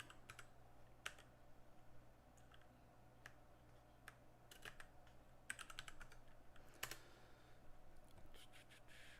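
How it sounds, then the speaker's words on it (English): Faint, quiet keyboard typing on a computer, with scattered key clicks and a few quick bursts of keystrokes over a steady low background hum. "If I can type."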